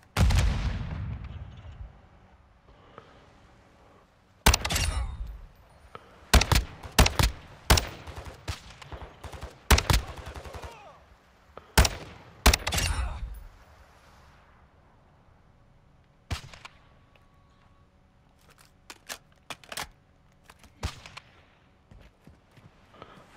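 Gunfire from the game Call of Duty: Modern Warfare II, with sharp shots coming in irregular clusters of loud bangs and rumbling booms, separated by gaps of quieter ambience.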